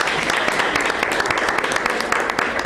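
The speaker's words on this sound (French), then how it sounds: "On l'applaudit." An audience at a French slam poetry contest applauds a performer after the scores are read, a lively, even burst of clapping that runs throughout with a faint murmur beneath.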